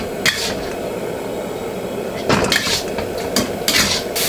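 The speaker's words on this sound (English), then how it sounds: "Keep flipping and stirring the morsel of food so that they all touch the burning hot surface of the wok" Chicken and broccoli stir-fried in a wok over high heat, with a steady background hiss broken by several sharp metallic scrapes and clanks of a utensil tossing the food.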